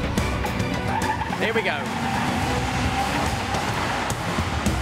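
A racing car spins its wheels, with engine roar and a brief tire squeal partway through, as a steady loud drone. Commentators speak over it.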